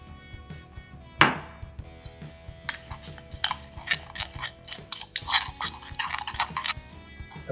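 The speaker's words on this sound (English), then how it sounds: "Mix it all together." A utensil stirring tofu pieces in a bowl coated with sriracha and soy sauce, making close clinks and scrapes that turn into a busy, repeated clatter after a sharp knock near the start.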